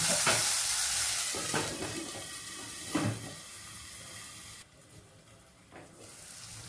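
Ginger garlic paste sautéing in a pan for egg masala, a soft sizzle with a few stirring scrapes, close, fading quieter after the first few seconds.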